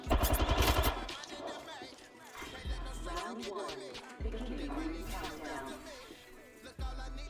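Apex Legends gunfire crackles in rapid bursts of automatic shots, loud at the start and then in scattered volleys amid the game's sounds, with people talking over it.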